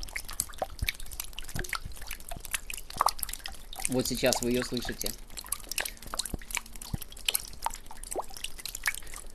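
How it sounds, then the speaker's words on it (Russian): Spring meltwater dripping, captured on a Zoom H1 handheld recorder: irregular close drops tick and plink throughout, with a voice speaking briefly over them partway through. "капель весенняя"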